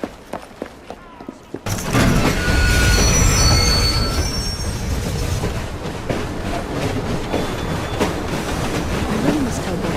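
In the Assassin's Creed Syndicate video game, a runaway train thunders along the rails with loud rumbling, rattling wheels and high metallic squeals, starting abruptly after a few sharp knocks and sustained to the end.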